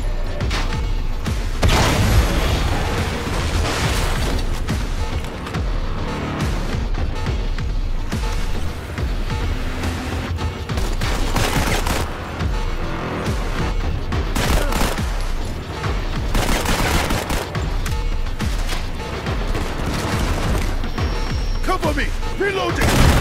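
Heavy, sustained gunfire from several people shooting at once, dense overlapping volleys and bursts running loud and unbroken throughout, with shouted voices mixed in.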